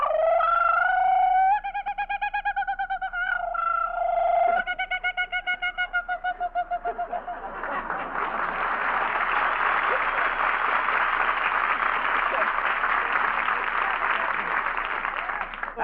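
A voice imitates a kookaburra call with rising, warbling tonal hoots, which break into a long, loud, hissing noise like applause or static that lasts to the end.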